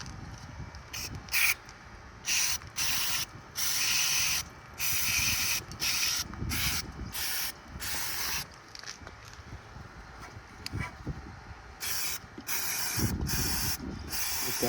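Repeated short bursts of aerosol spray hiss as valve cleaner goes onto an old, long-abandoned tractor engine, some bursts brief and others longer, over faint rattling and handling noise, with no talk.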